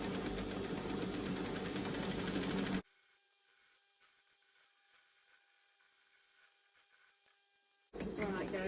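A sewing machine stitches skirt material with a twin needle, whirring steadily for a few seconds, pausing in near silence, then running again.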